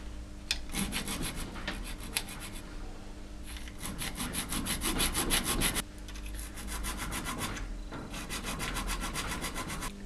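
A metal file rasps rhythmically across the steel sear of a speargun trigger mechanism, with fast back-and-forth strokes grouped into several bursts separated by short pauses.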